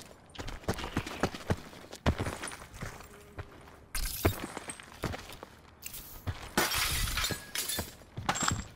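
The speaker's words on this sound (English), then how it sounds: "I broke glass." Glass shatters in a squad-based battle royale shooter, with several sharp crashing breaks and tinkling debris scattered among hard thuds and footsteps, a couple of louder smashes standing out over the steady background of the game.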